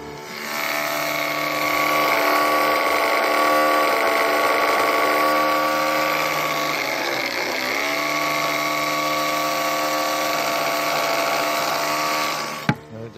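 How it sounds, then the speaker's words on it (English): An electric motor spins a pump mounted in a box, a loud steady whine with a constant tone that holds level throughout, dips briefly midway, then stops with a sharp click near the end. "I hit the red switch, which spins the motor to run the pump."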